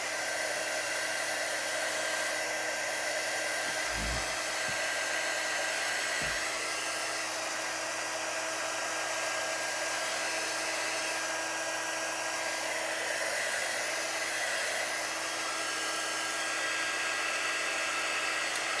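A hair dryer blows continuously at close range, drying a chalk paste stain in a steady loud whoosh with a couple of brief low thumps early on.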